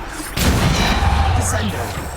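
A Bombarda spell blast in the video game Hogwarts Legacy during a trial fight bursts in loudly, then rolls into a dense, rumbling roar that fills the rest of the moment.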